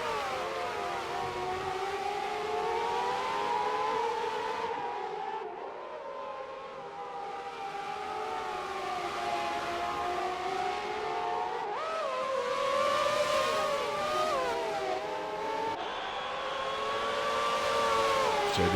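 Several 1990s McLaren Formula 1 cars race in a video game, their high-pitched engines wailing continuously and shifting pitch through corners and gear changes, loud and steady throughout with no talking.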